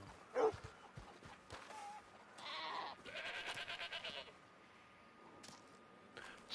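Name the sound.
goat bleating, from the video game Red Dead Online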